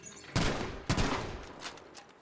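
Two loud, close shotgun blasts from Battlefield V's practice range, roughly half a second apart, each with a booming decay, followed by fainter distant shots and clatter.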